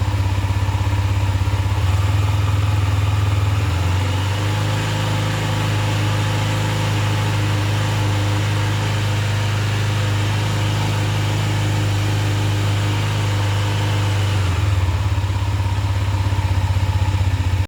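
A motorcycle engine idles, then its revs climb on their own with no throttle input and hold at a steady, loud, close drone before dropping back near the end.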